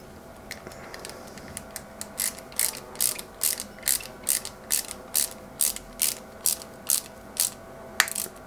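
Small AP screws being driven into a 1/8-scale Nissan Skyline GT-R model from Fast & Furious, a close run of sharp, evenly spaced ratcheting clicks from the screwdriver, about a dozen in steady rhythm.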